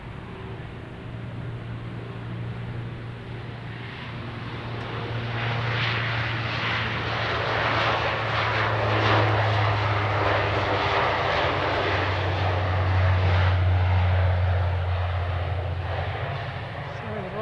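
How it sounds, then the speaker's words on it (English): An Air Canada airliner takes off from the runway at Edmonton International Airport, its engine roar swelling from a steady distant drone into a loud sustained rumble that holds and then begins to fade. "Air Canada is on the runway and should take off now"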